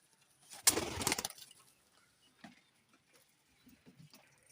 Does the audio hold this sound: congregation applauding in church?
no